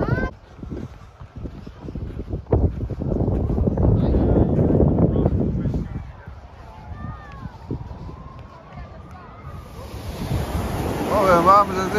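Mediterranean surf breaking on a windy Barcelona beach in March, a broad steady wash of waves with wind buffeting the microphone and footsteps nearby, with no one speaking.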